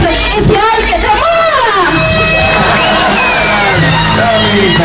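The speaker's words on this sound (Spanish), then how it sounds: "Fuerte el aplauso, por favor." Crowd at an inauguration event cheering and shouting loudly with whoops and yells, a dense continuous roar of voices filling the whole stretch.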